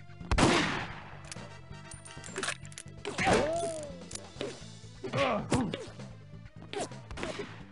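Gunfire in 007: The World Is Not Enough on the Turncoat mission, with several sharp, loud shots spread irregularly over several seconds, each snapping out with ringing echo tails between quieter game sounds.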